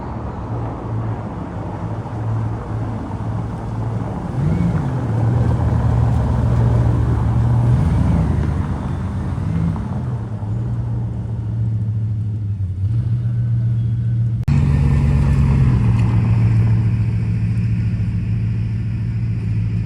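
Bugatti cars arriving at a festival in Alsace, some on a rally from Switzerland, give off a continuous low engine rumble with a few rising revs. The sound grows louder and sharper as another car draws near. No one speaks.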